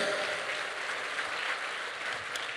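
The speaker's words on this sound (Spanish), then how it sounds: "Dale un aplauso al Rey en esta hora." A church congregation applauds during a Spanish-language worship service, a steady, dense wash of clapping that fills the whole stretch evenly and carries on without a break.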